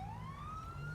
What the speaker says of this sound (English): Meant to turn on the siren, turn off the lights.